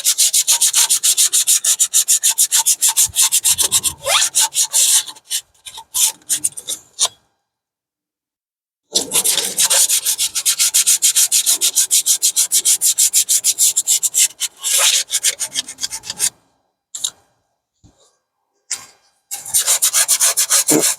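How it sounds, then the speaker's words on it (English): Rear parking brake parts from a 2009 Pontiac Vibe AWD are hand-sanded, giving loud, close, rapid back-and-forth rasping strokes in bursts separated by brief pauses. "I'm just going to sand these down a little bit"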